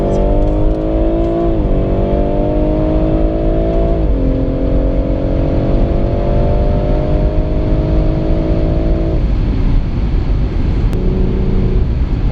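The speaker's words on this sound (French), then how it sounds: "Cette voiture, elle monte trop vite." A BMW M140i accelerates hard through several gears, the engine note climbing steeply and dropping at each shift before rising again, loud and close throughout with no talk.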